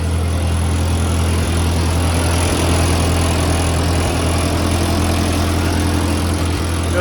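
An old Ford 8N tractor engine running steadily at idle, a loud, close and even mechanical drone with a low, regular throb and no voices.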